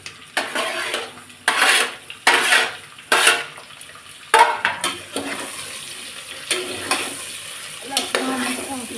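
Vegetables for a vegetable pulao are stirred in a pan, with a metal spoon clanking and scraping in irregular bursts over a low sizzle, close and loud, with faint talk in the background.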